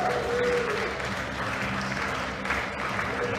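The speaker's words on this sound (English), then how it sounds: "Give them a round of applause." Audience applause at a youth world powerlifting championship in Malta, a dense, loud crowd clapping that fills the hall steadily from start to finish.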